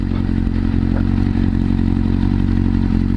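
A high-powered liter-class motorcycle rides over a rough, broken road, its engine droning loudly and steadily while the bumpy surface adds light clatter and thumps throughout; no speech.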